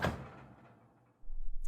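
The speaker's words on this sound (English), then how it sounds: "Now open the door and look inside to find any breakers that have turned off." The small metal door of a household fuse box is pulled open with a single soft thunk and rattle. A quiet stretch follows, then a low indoor hum.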